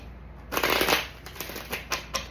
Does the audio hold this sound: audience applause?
no